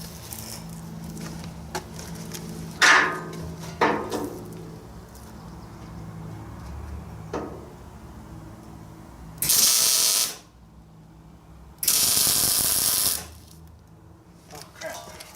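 A MIG welder tack-welds hangers onto a steel trailer ramp, giving two loud, crackling hiss bursts of about a second each. Quieter clanks and handling noises fill the gaps between them.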